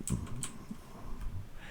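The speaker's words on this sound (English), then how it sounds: "So at the moment I'm controlling it with my keyboard" Quick computer keyboard key presses controlling a platform game during development, a handful of light, close clicks in an irregular rhythm over a quiet background.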